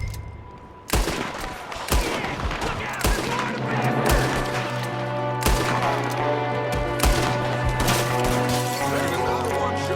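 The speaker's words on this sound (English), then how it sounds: "There's another one shooting from the window." Gunfire from a window in Red Dead Redemption 2: sharp, loud gunshots repeating every second or so over a tense droning game score.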